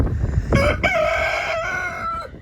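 A rooster crows once, loud and close, a long ringing call over a windy, rumbling background.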